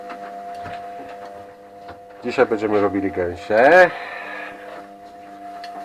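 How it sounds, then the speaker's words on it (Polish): A household washing machine hums steadily in a home kitchen, its tonal drone running under someone speaking Polish throughout. "bo pralka w tle."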